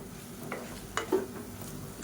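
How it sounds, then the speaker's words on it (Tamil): Scraping of a spatula stirring eggplant through a pan, a few short strokes over a faint, steady sizzle of frying. "இப்போ நல்லா இதில் பரட்டி விட்டுக்கலாம்."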